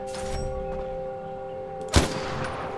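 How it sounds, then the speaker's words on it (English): A grenade detonates in the Far Cry 4 video game, one sharp, loud blast partway through, cutting over a steady hum of game ambience. "You're throwing a grenade at me."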